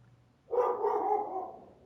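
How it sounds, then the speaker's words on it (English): A dog in the farming game Farming Simulator 25 gives a single drawn-out bark, moderately close and clear over a quiet background. "And the dog's barking at somebody."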